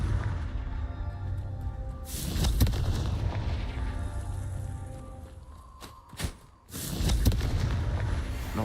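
Confringo blast spells go off in a Hogwarts game, sending loud booming explosions and crackling bursts over a dense rumbling background, with a short quieter gap before another blast.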